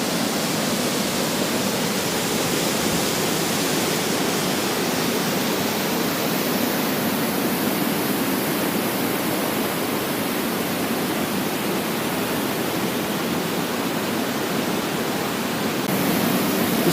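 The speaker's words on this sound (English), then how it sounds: "we are at the High Shoals Falls" High Shoals Falls, a waterfall in Georgia, gives a constant loud hiss of rushing, falling water that stays steady and dense from start to finish, with no voices.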